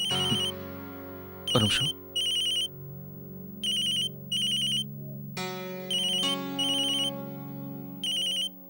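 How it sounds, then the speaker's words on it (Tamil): A phone ringtone chimes in short repeated bursts, several rings in a row, over a steady musical tone in a home scene from a Tamil TV serial, with a brief spoken word between rings. "யாரோ ரொம்ப நேரமா கால் பண்றாங்களே"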